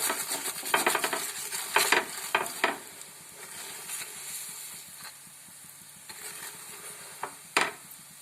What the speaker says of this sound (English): we will flip it and crisp it from the other side also. In this side also, we will be adding little bit of butter